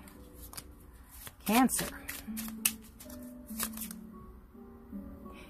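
Tarot cards are shuffled in a short riffle burst and a few drop with light slaps, close and clear, while someone speaks quietly around them.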